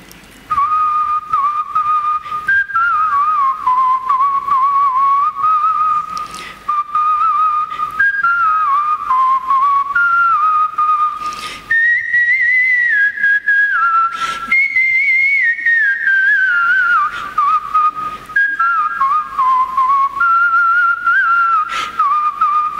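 A man whistles the opening phrase of a film song at a CD release event for whistled songs, a clear sustained melody with gliding pitch and short breaths between phrases, loud and close with no talk.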